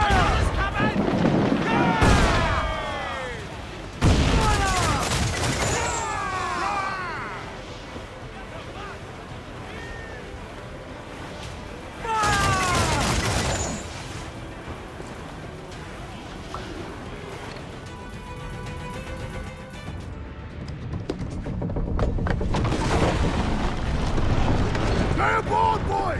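Naval cannon broadsides from sailing warships in Assassin's Creed 4 Black Flag, three heavy booming bursts spaced apart over rolling sea and wind, with shouted voices between volleys.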